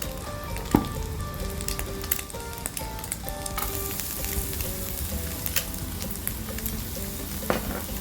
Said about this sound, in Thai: เอากระเทียมเจียว เอาลงไปเจียวนะคะ